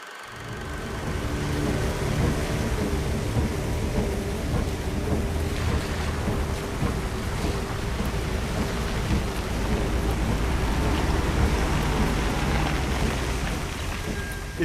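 Steady, heavy rain pours on an isolated road at night in the 1960 film Psycho, with low thunder rumbling underneath, a dense continuous wash throughout.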